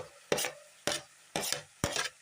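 Coconut, curry leaves and ground spice powders being stirred and sautéed in a pan with cumin, cinnamon, fennel and cardamom: four sharp scraping stir strokes evenly spaced over a soft sizzle, close and fairly loud.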